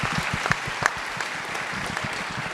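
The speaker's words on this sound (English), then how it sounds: "let's clap" Lecture audience applauding together in a hall, a steady wash of many hands clapping for a couple of seconds with no voices over it.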